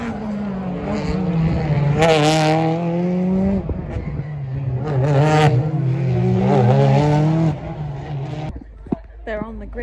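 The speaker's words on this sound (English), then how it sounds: "Race one, so it's Ingram, Butcher and Lloyd, top three" BTCC touring cars racing at Oulton Park, engines rising and falling in pitch as cars pass close by, one after another, loud and continuous with talk in the background.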